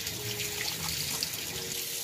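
A tap runs steadily during surgical handwashing, a close, constant hiss of water flowing over raised hands, with no talking.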